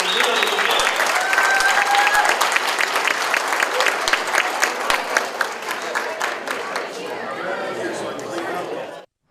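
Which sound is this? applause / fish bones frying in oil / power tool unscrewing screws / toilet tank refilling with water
applause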